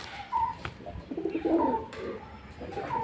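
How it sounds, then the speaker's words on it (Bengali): Restless pigeons in a loft coo softly in short, scattered calls, with brief wing flutters and rustles nearby at low volume. "তো যার জন্য পায়রাগুলো এত ছটপট করছে।"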